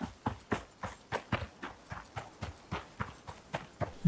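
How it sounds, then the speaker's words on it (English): Warthog trotting in the survival game ICARUS: a steady run of quick hoof-like footfalls, close and evenly paced, with no talking. "Yeah, see, it's brought in a warthog there."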